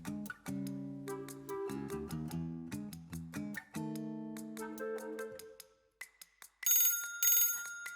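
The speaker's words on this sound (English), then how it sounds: "try to choose a ringtone that really sounds like you're getting a call." A bright electronic ringtone plays a rapid melodic pattern of chiming tones, then shifts to higher trilling rings toward the end.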